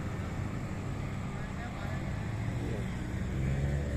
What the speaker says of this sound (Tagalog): Ito ay ang ferry boat nila,